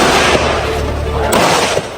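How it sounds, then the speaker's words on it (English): Sharp gunshots crack over a dense, continuous rumble of firing at a shooting range in Vietnam, with a few louder reports standing out near the end. "You hear the gunshots."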